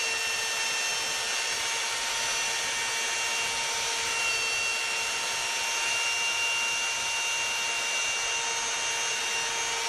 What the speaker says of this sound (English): Using the chamfer meister here to put a bevel on the wood